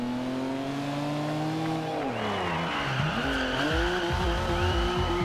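Turbocharged single-turbo BMW racing in Forza Horizon 2, a loud steady engine drone that drops and climbs again through gear changes, with faint tire squeal, close and continuous without talk.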